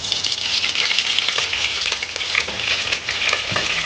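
Coconut oil frying in a pan while cooking Nigerian cabbage stew, giving a steady close sizzle with crackles and light stirring scrapes throughout.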